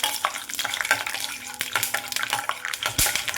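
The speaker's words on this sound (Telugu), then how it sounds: "ఆయిల్ వేడైన తర్వాత 2 స్పూన్లు పల్లీలు వేసుకోవాలండి" Two spoons of peanuts fry in hot oil for a ridge gourd chutney, giving a steady crackling sizzle with occasional stirring clinks from a spoon against the pan.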